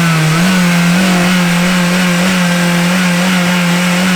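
A 2003 base Acura RSX with a 2-liter engine and an Injen cold air intake, revving loudly and close with a steady, droning high-rpm tone that rises slightly and holds for several seconds without talk.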